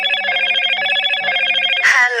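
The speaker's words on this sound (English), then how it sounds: "Sorry, that's my phone." A mobile phone rings with a steady, repeating electronic ringtone, loud and close, until it is cut off near the end by a short burst of noise.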